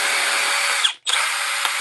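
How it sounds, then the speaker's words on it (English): A Milwaukee brushless compact drill driver whirs at high speed, briefly stops and spins down for an instant, then runs again, loud and close with no talk. "Drill driver brushless compact."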